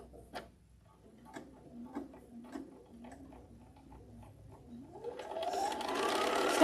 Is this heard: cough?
no